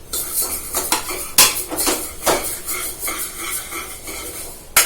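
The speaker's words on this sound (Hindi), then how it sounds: "अब मैं इस दाल को भी थोड़ी देर भून लूंगी" Dal lentils being roasted in a pan with a spoon, giving repeated metallic scraping and clinking strokes against the pan along with light dry rustling, close and steady throughout.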